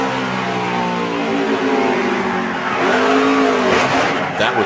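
Pickup race trucks at the 2012 Lucas Oil 150 howl past on the track, several engines droning loudly and continuously with rising and falling pitch as they race side by side, a brief squeal near the end.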